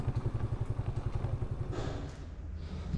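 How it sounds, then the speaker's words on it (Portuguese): A motorcycle being moved into a garage, its engine idling with a low steady rapid throb close by, plus faint thumps and clatter, easing off slightly toward the end. "Agora vamos botar a moto na garagem"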